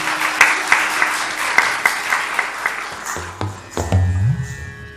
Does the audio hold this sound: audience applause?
yes